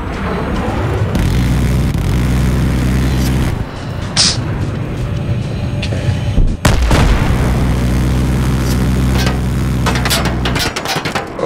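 Anti-aircraft gun fire in an F/A-18 flight combat video game: loud, sustained rhythmic pounding that stops briefly near the middle, then resumes, with a sharp blast between the two stretches.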